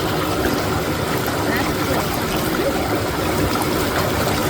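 A South Carolina mountain river rushes along in a constant loud wash close by, with talking under the flow.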